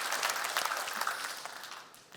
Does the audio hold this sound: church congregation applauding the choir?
yes